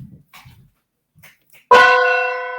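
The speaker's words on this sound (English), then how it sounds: "So if they talk too long, I'll bang my gong." A gong is struck once, loudly and close by, and rings out in a long, shimmering decay after a few soft spoken words.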